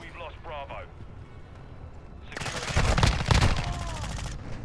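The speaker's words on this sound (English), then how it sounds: "it's that shotgun, bro" Shotgun fire in Call of Duty, a cluster of loud blasts and rapid shots erupting midway and continuing to the end, with players talking before and during the firing.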